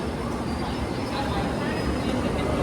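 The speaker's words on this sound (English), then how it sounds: "Train's just pulled in right now" A London Underground Hammersmith & City line train to Barking rumbles steadily at a station, a constant loud roar with a faint high whine and no pauses.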